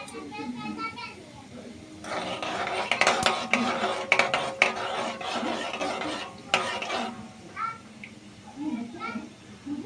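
Whole cumin seeds crackle and sizzle in about two spoonfuls of hot oil for an egg bhurji, a dense crackling burst in the middle with some clinks and a voice talking before and after.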